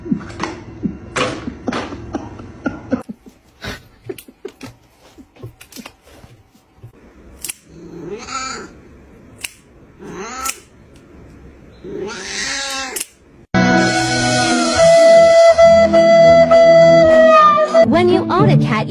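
A pet cat caterwauls and meows in a home, with people talking around it, then a loud, steady passage of music or other sound takes over near the end.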